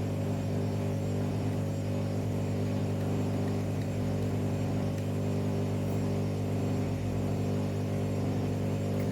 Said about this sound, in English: Sorry if the washing machine's going off.